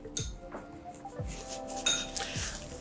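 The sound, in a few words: stirring ionized water in a glass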